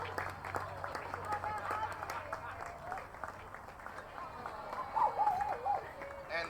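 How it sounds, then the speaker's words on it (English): An audience at a bike story night in Radio Coffee & Beer breaks into a round of applause, with the clapping blending into lively voices and cheering that swell toward the end. "let's give Valerie a big round of applause for organizing"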